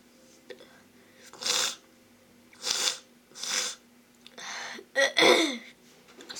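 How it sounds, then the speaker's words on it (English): A sick person with a sore throat and stuffy nose clears their throat in several short, harsh bursts, close and separated by brief pauses. "So I can clear my throat."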